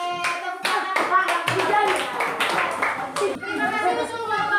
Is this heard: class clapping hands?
yes